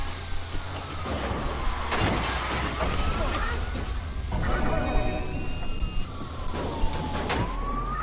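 A police car siren in the game Watch Dogs wails in rising and falling sweeps over a steady engine drone, with crashes and excited talk mixed in, on a rainy day.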